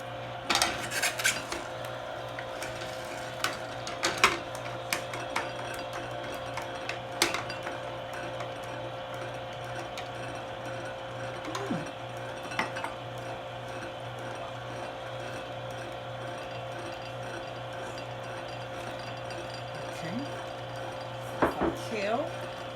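A juicer works through kale with repeated clattering, knocking and scraping against a steady mechanical hum, the sharp hits near and irregular throughout.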